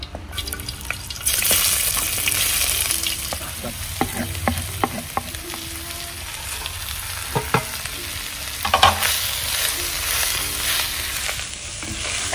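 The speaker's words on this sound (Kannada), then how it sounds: "ಒಂದು 3 ರಿಂದ 4 ನಿಮಿಷ ಈ ಥರ ಚೆನ್ನಾಗಿ ಫ್ರೈ ಮಾಡುವಂಥದ್ದು." Masala fries steadily in ghee in a pan with a constant close sizzle, broken by frequent clicks and scrapes of stirring, with no one speaking.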